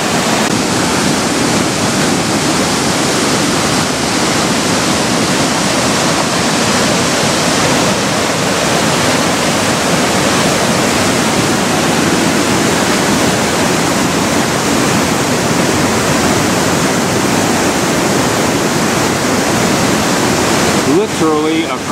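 The Pailón del Diablo waterfall near Baños, Ecuador, roars as a dense, loud, continuous wash of rushing water that fills the whole clip without a break.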